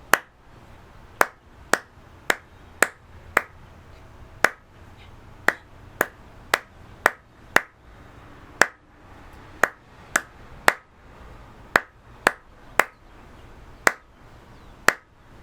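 Sharp, isolated hand claps beat out a steady rhythm in a quiet room, about twenty crisp close strikes in evenly spaced groups with brief pauses between phrases.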